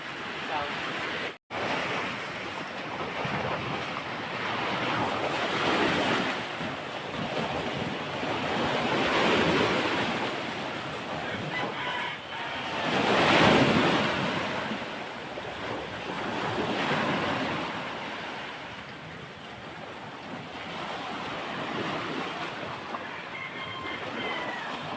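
Sea waves wash against the shore, a steady roar of surf with slow swells rising and falling, heard close and loud with no voices.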